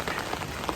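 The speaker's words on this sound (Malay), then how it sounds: "hujan." Rain falls steadily on a surface during a trip to Kelantan in Malaysia, a soft continuous patter that stays fairly quiet with no voices over it.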